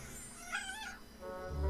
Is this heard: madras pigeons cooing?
no